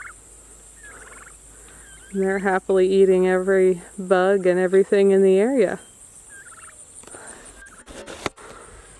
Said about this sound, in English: We're raising our turkeys, which are right behind you.